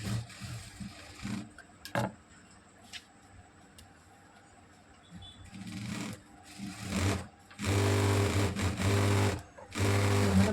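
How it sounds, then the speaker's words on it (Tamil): A sewing machine stitches along the edges of a boat-neck princess-cut blouse, running in short stop-start bursts that grow into steady, loud whirring runs near the end. "இந்த மாதிரி வந்து எஜஸில் ஒரு தையல் ஒன்று போட்டுக்கோங்க"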